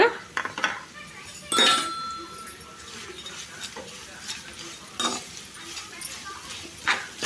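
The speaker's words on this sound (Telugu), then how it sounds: "ఇప్పుడు దీంట్లో ఈ రొయ్యలు వేసుకొని లైట్గా ఫ్రై చేసుకోవాలన్నమాట" Dried prawns go into hot oil in a pan, giving bursts of metallic clinks and scrapes from a utensil against the pan at uneven intervals, fairly close, with a faint hiss of frying beneath.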